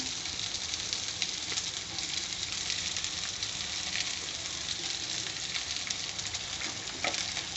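Okra (ladies finger) fries in a pan for a South Indian vendakkai varuval: a steady, dense sizzle with crackling pops, close and continuous, with no speech.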